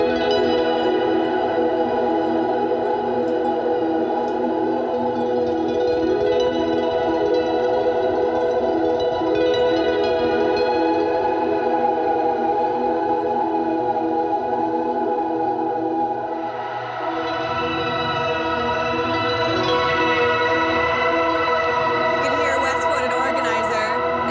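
Sustained, reverberant guitar tones through an EarthQuaker Devices Swiss Things pedalboard hang and slowly decay in a washy ambient tail, then the dry string signal cuts off as the reverb tail carries on without fresh plucking.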